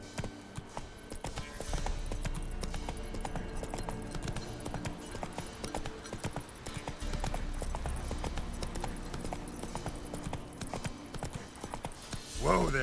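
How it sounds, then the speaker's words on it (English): Horse hooves clip-clop steadily at a walking pace in The Witcher 3, a continuous rhythmic trot in the foreground with game ambience beneath and brief speech over it. "Whoa there, Roach"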